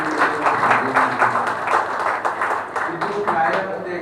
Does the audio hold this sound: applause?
yes